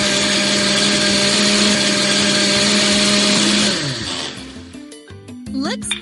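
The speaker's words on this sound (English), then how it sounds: "Great! Now blend everything together." A video game blender whirs steadily and loudly while mixing iced coffee, then winds down with a falling pitch as cheerful game music takes over.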